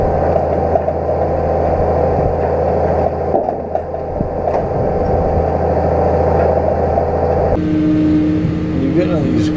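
A tractor pulls a field roller across a field being rolled for planting at about 5 miles an hour, a steady low engine drone with rumbling and clanking, shifting in tone near the end as the rig works into a corner.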